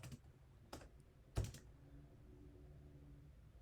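Keystrokes on a computer keyboard, quiet and close: a few separate taps with one sharper clack in the middle, then near silence.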